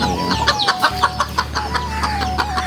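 Chickens being taken to a local market for sale cluck loudly and close by in a quick, uneven run of calls, with no talk over them.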